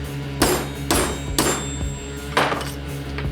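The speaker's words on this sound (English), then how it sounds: "I just hammered the ring off of the mandrel, and it was ready to try on" Sharp metallic hammer blows striking a quarter coin ring on a steel ring mandrel, about five irregular close strikes with ringing tails, no speech.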